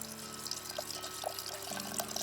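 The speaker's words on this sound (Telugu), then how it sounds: "నేను ఈ చింతపండుకి 1/2 లీటర్ వరకు నీళ్లు పోస్తున్నానండి." Water poured from a vessel onto tamarind left to soak in a home kitchen while making pepper rasam, a soft steady stream with a few faint drips, close and quiet, with no voices.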